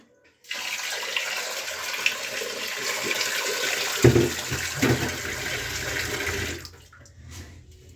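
Moong and masoor dal washed under running tap water: a steady rushing stream with a few louder splashes near the middle, then the flow suddenly cuts off. No talking.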